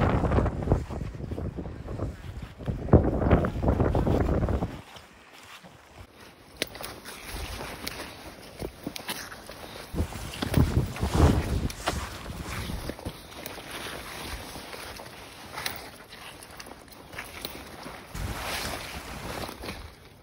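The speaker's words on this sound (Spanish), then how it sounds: "hace muchísimo viento" Strong wind roaring at the lighthouse on Isla de los Estados, Argentina: steady broadband rushing and buffeting against the microphone throughout, with a brief lull near the middle, loud and close, no talking.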